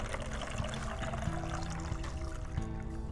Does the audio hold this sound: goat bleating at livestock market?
no